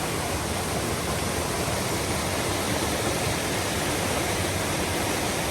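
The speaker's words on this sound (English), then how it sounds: "So I believe this is just another waterfall that's on here that's probably unnamed." An unnamed waterfall near Beech Bottom Falls roars in a dense, constant hiss of falling water, loud and close as if heard from the top of the drop, with no voices.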